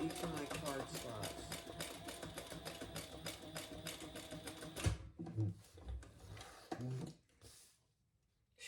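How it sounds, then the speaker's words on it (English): A domestic sewing machine stitches a Lemonza clutch in a steady rapid whir that runs for about five seconds and then stops. A few short bursts of stitching follow, with brief pauses, as if back stitching near card slots. "I'm going to back stitch when I get to each of my card slots"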